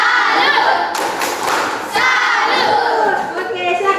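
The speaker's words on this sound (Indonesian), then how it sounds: "Ayo kita kasih tepuk salut lagi." A school class in a coding lesson performs a loud rhythmic clapping chant together, the claps and shouted group voices blending into a dense, energetic crowd sound close by.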